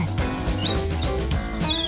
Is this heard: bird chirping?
yes